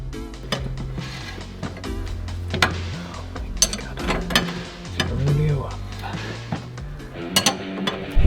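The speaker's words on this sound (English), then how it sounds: "Now this just needs to get tightened all the way." Metallic work on a car's front suspension, tightening a lock nut: irregular close clinks and ratcheting clicks with clanks of tools and parts, interspersed with brief bursts of speech.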